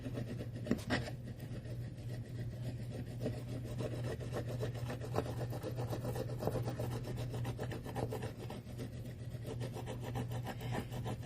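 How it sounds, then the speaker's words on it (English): A home decor transfer being rubbed onto a surface, producing a steady, close, continuous scratchy rubbing that runs throughout over a low constant hum, with no talking. "all I'm doing now is rubbing on my transfer"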